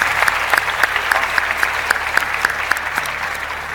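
Studio audience applauding to send off contestants on the O Ses Türkiye semi-final stage: a steady wash of clapping with a few sharp, distinct claps standing out in rhythm near the front.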